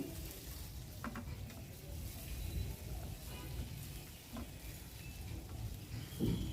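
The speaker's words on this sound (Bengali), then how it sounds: "এখন আমি রাইসগুলো দিয়ে দিচ্ছি" Rice goes into a pan of browned onions frying in oil, with a steady low sizzle and a few scraping and clattering stirs, fairly quiet and with no talking.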